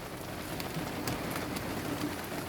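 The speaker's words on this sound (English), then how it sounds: "It's raining cats and dogs." Heavy rain falls steadily, a constant close spattering hiss on surfaces with no voices over it.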